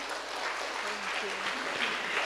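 An audience at a spiritual class gathering gives a round of applause, a continuous even patter of clapping from many hands, with a faint voice briefly underneath.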